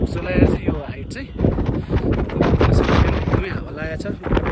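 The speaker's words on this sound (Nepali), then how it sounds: "एकदमै हावा लागेको छ" Strong gusting wind on a snowy mountain slope hike at Bear Butte buffets the microphone in loud rumbling bursts, with a person talking over it throughout.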